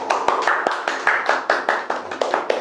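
A small audience claps at a comedy reaction lecture, a run of sharp hand claps in a loose, steady rhythm, close and moderately loud, with no talk over them.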